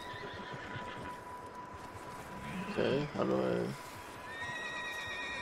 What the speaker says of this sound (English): Wild horse.